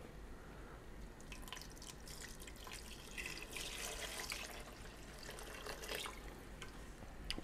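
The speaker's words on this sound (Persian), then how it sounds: "الان آب میریزم، میذارم" Water poured into a pot of Kashani meat and beans, a faint steady trickle and splash with scattered drips, heard alone in a quiet kitchen.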